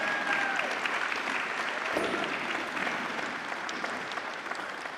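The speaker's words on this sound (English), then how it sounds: "Let's give our campers a big round of applause." Sustained applause from a concert audience, a dense, steady clapping that slowly fades slightly, moderately loud and even throughout.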